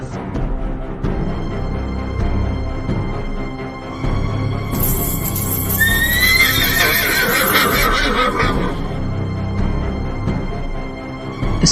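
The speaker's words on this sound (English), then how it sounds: "its horse rearing with a terrifying neigh." A horse rears and lets out a loud, shrill neigh over a dark, droning musical backdrop, with hoof movement around it, as a dramatic folklore sound effect.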